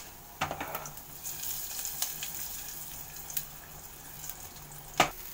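Whole red chillies crackle in hot ghee with cumin and asafoetida for a dal tadka. A steady faint sizzle runs under scattered small pops and a sharper crackle near the end, close by and with no talking.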